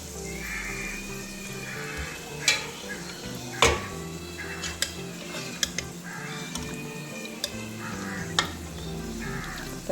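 Cooked mutton pieces sautéed in biryani masala without added water, a steady sizzle in the pan broken by sharp scrapes and taps of a spoon stirring against the vessel, close and continuous.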